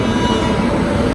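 A train rolls into a station on the Kochuveli–Yesvantpur Garib Rath Express line, a steady close rumble of wheels and carriages with a constant mechanical drone.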